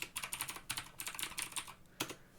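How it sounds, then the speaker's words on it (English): Quick, close clacking comes from a computer keyboard as a short command is typed in a rapid, uneven rhythm. The sound stops briefly before a final keystroke. "And then I can go into that folder by typing cd KivyMD Tutorial."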